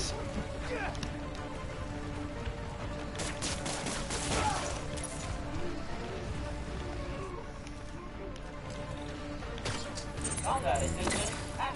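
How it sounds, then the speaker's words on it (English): Gunfire in a Spider-Man video game during a blizzard, a steady dense barrage of shots and cracks running throughout, mixed with game music and effects, with a voice talking over it. "Need to head toward the gunfire."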